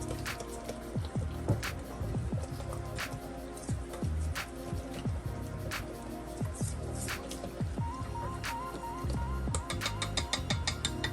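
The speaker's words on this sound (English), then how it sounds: "we're gonna whisk it together" Wet, sloppy whisking of a meatloaf topping mixture in a bowl, with irregular drips, squishes and clinks of the whisk running steadily throughout.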